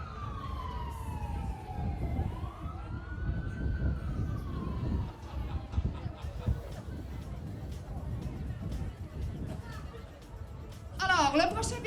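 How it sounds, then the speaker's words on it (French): Siren for a black-and-white police car arriving at a school prom, a single rising and falling wail early on, sounding over the crowd's chatter and outdoor bustle, then fading, with a brief warbling burst near the end. "Et ça prendrait un petit bruit de sirène de police"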